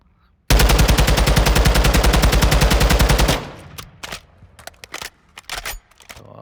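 Sustained full-auto assault rifle burst in Call of Duty Modern Warfare II, a loud rapid stream of evenly spaced shots lasting about three seconds, then trailing off into quieter scattered clicks and thumps.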